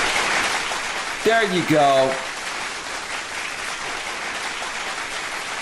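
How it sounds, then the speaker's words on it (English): Steady applause fills the whole stretch with even, dense clapping. A voice speaks briefly over it near the start. "I'll give you a big round of applause for just opening up about that"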